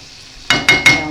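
Brown sugar sizzles in a hot pan while making a Liège meatball sauce, with three sharp bursts of frying hiss in quick succession after a quiet moment, close and fairly loud.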